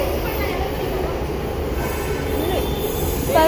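A metro train rumbles steadily nearby, wheels squealing faintly over a continuous roar of rail noise.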